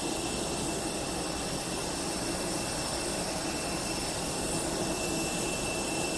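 Jet engine of a passenger aircraft roaring steadily at an airport, a loud, continuous broadband whine and rumble heard up close on the apron with no pause and no talking.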